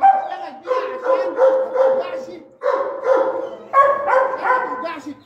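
A farm dog barks repeatedly outside while being trained for attack work, its harmonic barks and yips coming in close, loud bursts with short pauses between them.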